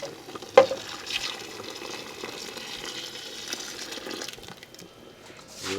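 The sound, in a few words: fresh coconut milk poured into pigeon peas soup pot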